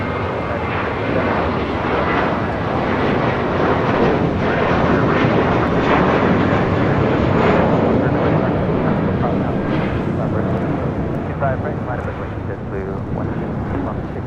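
An Airbus A321 airliner takes off at LAX with a loud, broad, sustained engine roar that swells and slowly eases, with wind buffeting the microphone.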